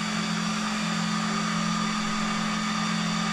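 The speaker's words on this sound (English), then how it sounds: "showing how much wind is being generated by the fan test of the server booting." Fans of a Fujitsu Siemens Primergy RX300 S3 rack server roar at full speed during the boot fan test, a loud, steady whoosh with a constant tonal hum throughout.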